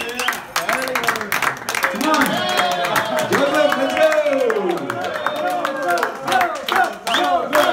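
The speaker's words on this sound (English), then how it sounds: "Give them a big round of applause on the way." An audience claps and cheers at a glass walk motivational training, scattered clapping mixed with voices calling out and a speaker talking over the crowd.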